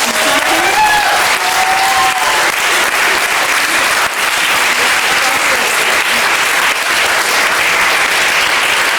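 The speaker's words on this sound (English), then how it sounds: "have a nice round of applause for all our instructors" A large crowd at a swing dance event gives dense, loud, continuous applause for the dance instructors, with a few brief whoops near the start.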